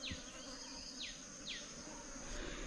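Wild honey bees buzz and drone in a steady, faint swarm as they are caught by hand and moved into a box, with a few brief higher whines passing close over the continuous hum and no voices.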